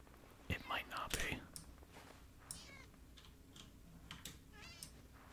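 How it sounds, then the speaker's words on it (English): A cat meows in the video game Minecraft, a couple of short, close calls early on, followed by scattered quieter game sounds and faint whispery noise. "Okay, there's a cat."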